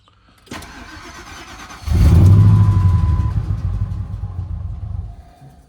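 A Ford truck engine with a fault cranks briefly, catches with a loud low roar, then fades and dies within a few seconds, heard up close with no talking.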